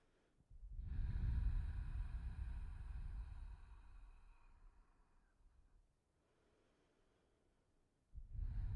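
Slow, audible breaths during a seated butterfly hip stretch in yoga: a long, soft exhale-like rush fading out, a pause of near silence, then another breath beginning, close and gentle.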